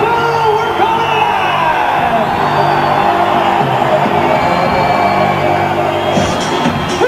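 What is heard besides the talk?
energized wrestling crowd cheering at WCW Nitro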